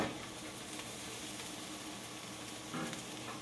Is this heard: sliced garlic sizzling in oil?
yes